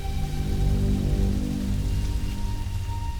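Heavy rain from an overnight storm in British Columbia's Fraser Valley region patters densely and steadily on surfaces nearby, a continuous close hiss with no voices.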